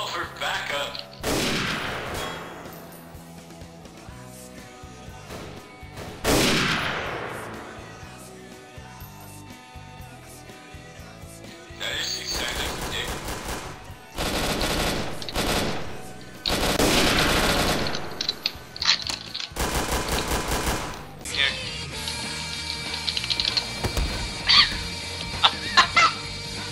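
Gunfire rings out in the video game Garry's Mod, with repeated bursts and single shots scattered across the stretch, some rapid and loud, amid other game sounds.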